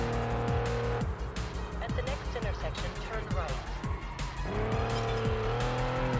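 Car tires squeal as the car spins out in the Test Drive Unlimited racing game, sharp skidding screeches over a loud racing engine that drops and rises again.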